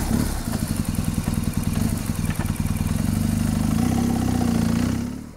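The boxer engine of a BMW R1200S motorcycle runs loud and close, a steady pulsing idle with a slight rise in revs near the end and no voices.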